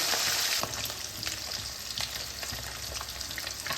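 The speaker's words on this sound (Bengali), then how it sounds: "আর হাই ফ্লেমে মাছগুলোকে ভেজে নিতে হবে" Small morala fish fry in plenty of hot oil over a high flame, giving a steady loud sizzle with crackling pops throughout and a brief stronger burst at the start.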